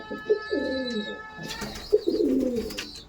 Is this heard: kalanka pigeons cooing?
yes